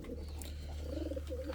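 Indian fantail pigeons give low, soft cooing calls in a pigeon house, with a steady low hum in the background.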